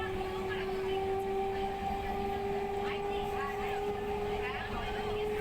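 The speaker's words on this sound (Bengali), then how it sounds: "ট্রেন ছেড়ে দিয়েছে" A passenger train departs on the Durgapur to Asansol route, giving a continuous rumbling ride noise with a steady tonal drone that holds evenly from inside the carriage.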